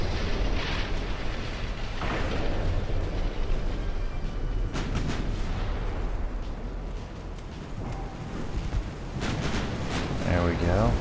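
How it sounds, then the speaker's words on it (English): Warship guns firing to starboard during a naval battle in Ultimate Admiral: Dreadnoughts, heavy booming reports and rumbling blasts filling the whole stretch, with several sharp bursts near the middle and end and a voice talking over the din. "We have a good angle, so I'll clear the guns to starboard."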